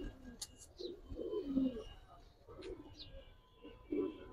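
A pair of Giribaz and coloured pigeons cooing softly close by, several low murmuring coos in an uneven rhythm, with faint chirps and light handling noises between them.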